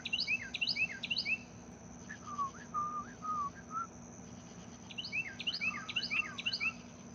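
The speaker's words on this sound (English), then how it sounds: "The birds is gonna chirp anyway" Birds chirping and whistling outdoors before dawn at about 4:40 in the morning, in quick bursts of bright calls near the start and end with a softer run of notes between them over a faint steady hum.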